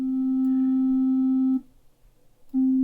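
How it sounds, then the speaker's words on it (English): Pure sine tone from a VCV Rack software synthesizer, a steady clean hum held for about a second and a half, a brief silence, then the same tone starting again. "Sine wave"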